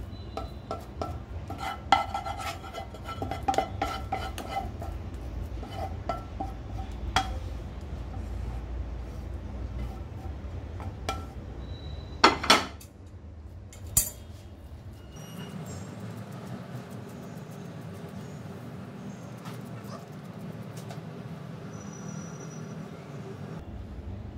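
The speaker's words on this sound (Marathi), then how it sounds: "आपण हे तूप लावलेल्या ताटामध्ये हे काढून घेऊया." A spoon scrapes mango kalakand mixture out of a pan onto a ghee-greased plate, with clinks and scrapes of metal, a few sharp knocks near the middle, then a steadier low hum and soft rubbing.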